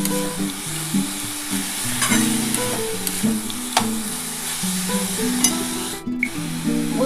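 Vegetable momo filling sizzles and crackles in a hot pan while being stirred, giving a continuous close frying hiss with scraping stir strokes; soft background music plays underneath.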